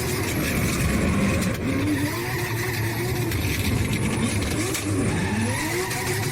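A drift car in a Dubai car park is heard from inside the cabin. The engine roars without a break, and the tires squeal in drawn-out, wavering bursts. The noise is loud and dense throughout.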